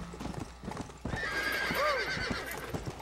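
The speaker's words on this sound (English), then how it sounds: "Horse senses evil or something here." A horse in the Red Dead Redemption Undead Nightmare video game clip-clops at a walk, then gives a loud, rising neigh over the hoofbeats, with a faint voice in the background.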